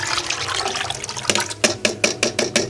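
Lye solution poured into two liters of oil for making laundry soap from animal fat, a soft liquid trickle that turns into a series of distinct, rhythmic splashing glugs toward the end.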